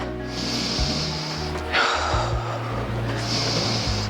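Heavy, audible breaths follow a Pilates exercise by the sea: two or three long, gasping inhale-exhale cycles close to the microphone, spaced about a second or two apart, over a low steady background hum, with no words spoken.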